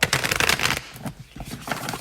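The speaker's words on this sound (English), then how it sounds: "as always, I will shuffle live" A deck of tarot cards is shuffled close up in quick riffling bursts, a crisp flurry of flicks, a short pause, then another burst of shuffling.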